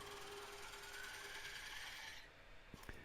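A wood lathe takes a scraping cut on a large turned serving bowl, a steady broadband grinding hiss that runs loud and continuous for about two seconds, then drops away as the tool lifts off, with a couple of sharp knocks near the end.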